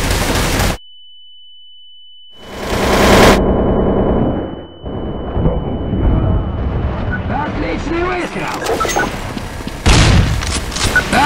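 Loud gunfire bursts in the shooter game Counter-Strike: Source, with a sudden silence between sharp blasts followed by continued shooting and game noise, while players talk over it.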